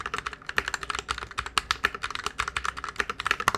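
Rapid, steady keystrokes clatter on a mechanical keyboard with linear red switches and double-shot keycaps, a close and continuous stream of crisp clicks with no talking.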